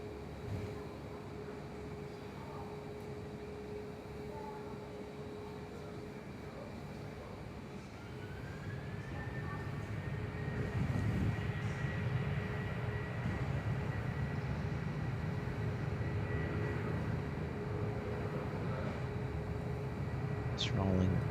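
A jet airliner rolls for departure at Perth Airport, a steady distant rumble that swells and holds as the engines spool up, with a high whine rising over the roar.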